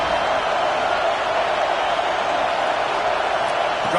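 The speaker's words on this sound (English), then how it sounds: "Listen to this crowd just shaking the girders of this place" Crowd at an NCAA college football stadium roaring loudly and steadily throughout, a dense continuous wall of cheering with no pauses.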